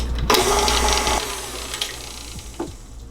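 A KitchenAid stand mixer briefly whirs while mixing peanut butter cookie dough, a short mechanical motor burst of about a second before it quiets, with light clatter afterward.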